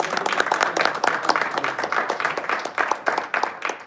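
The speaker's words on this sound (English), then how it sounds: "Give a huge round of applause to our" Audience applause at a Diwali evening club meeting, steady dense clapping throughout, moderately loud and close, with faint voices underneath.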